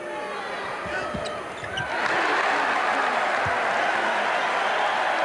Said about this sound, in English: A cheer from the crowd as Peichel makes the free throw